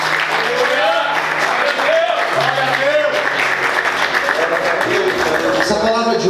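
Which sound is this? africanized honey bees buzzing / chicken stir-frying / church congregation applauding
church congregation applauding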